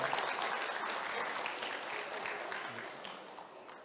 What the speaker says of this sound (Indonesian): tepuk tangan dulu Pak Munir.